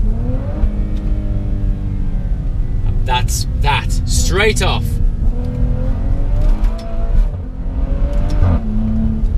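A Maserati SUV's engine revs hard with rising and falling throttle blips and a brief squeal in the middle, loud and close, while someone talks over it.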